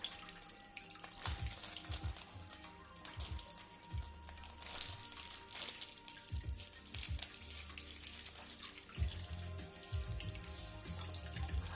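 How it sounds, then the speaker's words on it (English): Water pours and splashes steadily from a pan of thawing frozen mushrooms as it is drained into a kitchen sink, running continuously for several seconds with no talking. "let me drain some of the water, because they were frozen"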